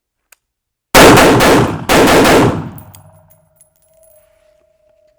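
Two quick bursts of rifle fire at an indoor tactical range, rapid shots ringing sharply off a KTAK steel target with a metallic decay after each burst, followed by a brief remark.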